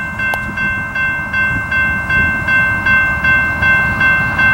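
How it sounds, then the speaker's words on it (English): A long CSX auto rack freight train rolls steadily past close by, with a rhythmic clatter of wheels over rail joints repeating about every half second and a steady tonal whine over the low rumble. "This is the auto rack train, by the way."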